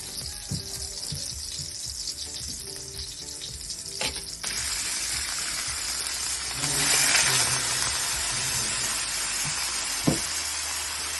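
Chicken sizzles in a pan over softened onion, a steady close frying hiss with scattered spatters, stirring scrapes and light knocks, and a sharp clink near the end.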